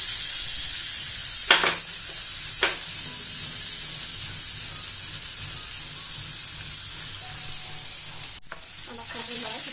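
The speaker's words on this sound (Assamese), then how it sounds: "পিঁয়াজখিনি এনেদৰে ফ্ৰাই কৰি থাকিব।" Chopped onions fry in a wok with a loud, continuous sizzle and hiss, broken by a few spatula scrapes and stirring knocks near the start and end.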